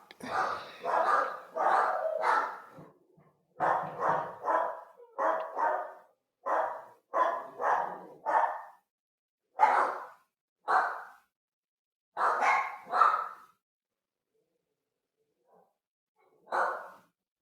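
A dog barks repeatedly in short, irregular bursts, fairly close and loud, with brief pauses between volleys and a quiet stretch near the end.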